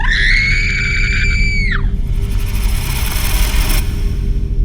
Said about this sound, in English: I scream as I stand frozen in place